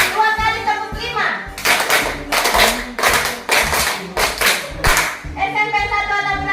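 Hands clap in a counting clapping game, with short bursts of group clapping in uneven groups, the rhythm speeding up, as voices talk between claps.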